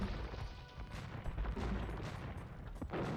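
Hand cannon gunfire from massed troops in an Age of Empires-style strategy battle between Franks and Celts, dense overlapping shots and crashes in a dull, continuous din.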